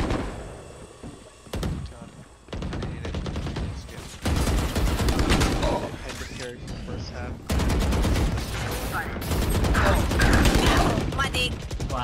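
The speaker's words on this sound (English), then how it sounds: "I missed all my goddamn shots." Rapid gunfire from the video game Valorant, dense bursts and repeated shots filling most of the clip at steady loudness, with a voice talking over parts of it.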